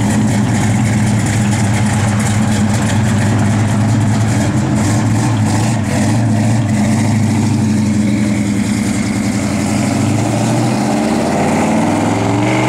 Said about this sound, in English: That car sounds wicked.